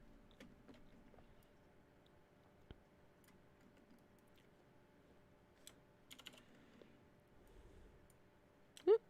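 Sparse computer keyboard clicks, a few isolated taps with short pauses between them, including a quick pair of shortcut keystrokes, quiet and close against a low background hum.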